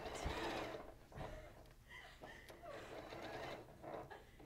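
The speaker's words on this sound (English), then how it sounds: "We're sewing this curve." Sewing machine stitching a curved seam on a maritime-themed quilt, a steady close mechanical whir with brief pauses and bursts of stitching across the clip.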